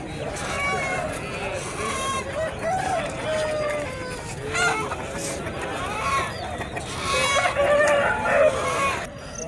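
Roosters crow and hens cluck among the crowd at the Nallapadu chicken market, with several calls rising over steady chatter and market bustle; people talk throughout.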